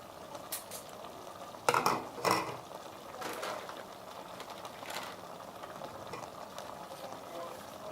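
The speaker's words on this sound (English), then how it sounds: "I'm stirring it together." A spoon stirs food in a cooking pot, making a few soft scraping and clinking strokes, with a brief louder clatter early on and quieter stirring afterward.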